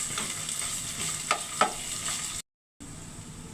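Ginger garlic paste fries with onions in a pan, a steady close sizzle with a couple of sharp stirring clicks, briefly cut before resuming.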